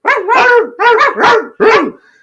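A voice imitates a dog barking with four loud, close, throaty barks in quick succession, followed by a brief fading tail.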